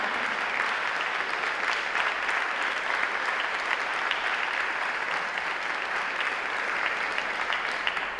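Steady applause from an audience at a Girl Scouts Gold and Silver Awards ceremony, a dense wash of clapping hands that continues evenly throughout without pause.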